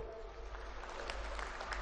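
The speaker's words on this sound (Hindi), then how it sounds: "इस पर हर कार्यकर्ता जरा ताली बजाए जोर से" Party workers at a political rally clapping together, a brief, steady patter of applause heard from some distance, fairly faint and even throughout.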